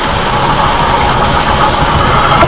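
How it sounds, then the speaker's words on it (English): A V8 car engine in the Forza racing game, set up for a drag race, gives a loud, steady mid-range roar that holds without a break, with no voices over it. "This is a high revving V8."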